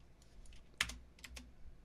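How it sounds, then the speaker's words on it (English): Computer keyboard typing in short, light bursts of a few quick keystrokes with small gaps between them, faint and close by with no voices. "Or I'll type in adults."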